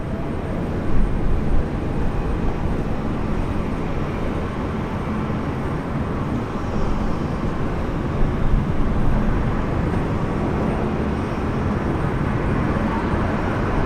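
Fokker airliner landing at Brisbane airport, a steady broadband roar of engines and rushing air that holds loud and even for the whole stretch, with no clear peaks.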